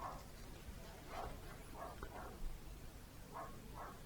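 A dog barks several times at a distance, faint, muffled bursts spaced irregularly over a steady background hiss.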